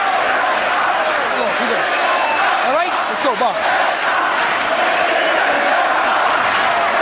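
A dense, frenetic boxing arena crowd roars steadily throughout Carl Froch vs Mikkel Kessler, a Super Six WBC bout, with a close-miked commentator talking over the din and brief shouted calls rising from the crowd.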